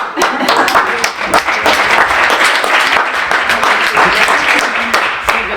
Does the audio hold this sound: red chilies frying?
no